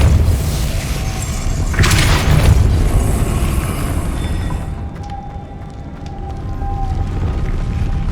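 A Depulso spell cast in Hogwarts Legacy bursts out as a loud, booming blast with a sharp crackling rush that slowly fades into a low rumbling ambience.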